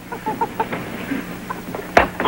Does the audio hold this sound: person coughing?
no